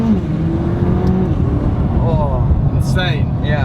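A McLaren accelerates hard in track mode, its engine roaring with rising pitch sweeps through gear changes under high throttle, heard from inside the cabin beneath ongoing talk.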